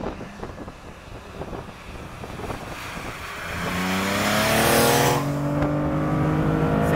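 A Porsche 911 ST engine revving as the car drives, a climbing engine note that builds from rough low rumble into a loud rising whine, with wind buffeting the microphone and no talking.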